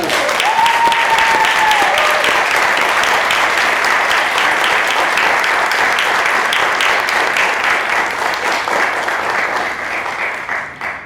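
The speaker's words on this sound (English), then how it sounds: "Let's give him a big round of applause, everybody." A Toastmasters audience gives a big round of applause to a person on stage, loud and close, with thick continuous clapping that holds for about ten seconds and then tapers off.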